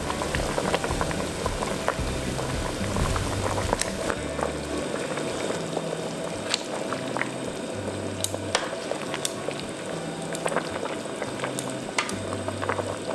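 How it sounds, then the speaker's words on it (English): Pork belly simmering in a pot of boiling water, a steady bubbling and burbling with a continuous low rumble, close and unbroken throughout. "once it comes to a boil, let's add in the pork belly back in and lower the heat to medium"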